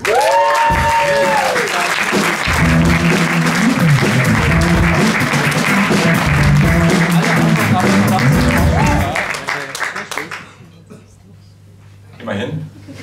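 Loud audience applause and cheering fill a talent show annual final at the Pool Garden, with a host's amplified voice and music over it before the clapping fades to a quieter hall.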